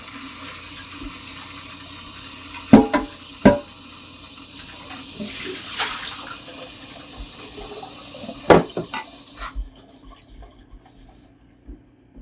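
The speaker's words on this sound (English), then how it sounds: "So I'm going to give that a rinse." Sprouting jars are rinsed under a running kitchen tap: a steady wash of water with a few sharp glass clinks and knocks, close and fairly quiet, and no talking.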